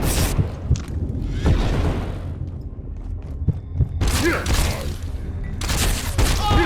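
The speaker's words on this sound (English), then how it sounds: "it sounds like somebody else is shooting at us still" Gunfire in the survival game Abiotic Factor, a string of heavy booming shots in bursts with brief pauses between, mixed with other game sounds.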